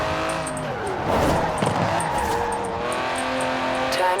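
Car engine and tires in the Forza Horizon 4 racing game, a steady sustained engine drone with rising revs and a light tire squeal, loud and continuous throughout.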